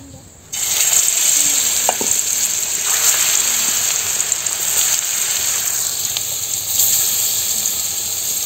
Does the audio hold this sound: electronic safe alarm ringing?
no